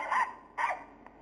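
A Siberian Husky in the video game Nintendogs gives two short, bright barks in quick succession, then a faint yip, close and clear with no talk.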